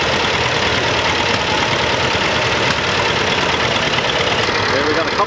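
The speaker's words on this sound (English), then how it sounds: "There's the John Deere coming in." An antique John Deere tractor pulls in at a tractor show and parade, its engine a steady, loud, rumbling drone with continuous low knocking.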